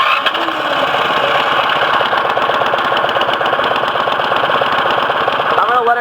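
An MTD 179cc small engine runs on choke, with a loud, close, rapid chugging beat that holds steady throughout the clip.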